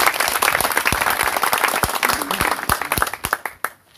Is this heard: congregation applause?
yes